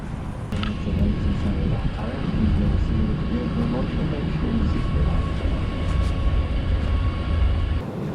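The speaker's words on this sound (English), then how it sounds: "This is Calgary Airport's terminal shuttle." Calgary Airport's YYC Link terminal shuttle train running, a steady low rumble and whir from inside the car with a brief higher tone, while a person talks over it.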